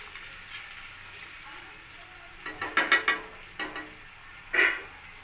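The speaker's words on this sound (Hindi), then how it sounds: "ये एक तो छोटे चम्मच हम इसमें विनेगर डाल दें इन सबको हम अच्छे से मिक्स कर लेते हैं" A spoon stirs dry veg manchurian in a pan with a splash of vinegar, giving a run of quick scraping strokes over a steady background sizzle, followed by one more scrape.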